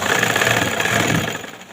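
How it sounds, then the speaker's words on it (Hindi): A sewing machine stitching piping onto cloth hums in a steady, close, continuous motor whir, running without pause and easing off slightly at the end. "और फिर खाली कपड़े पर ही मशीन चलेगी"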